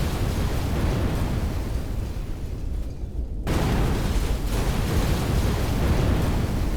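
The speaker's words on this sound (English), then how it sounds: "there was a big sound like an underwater explosion" A heavy, muffled underwater explosion rumbles loudly and continuously, a deep churning roar that briefly dips before surging back with full force.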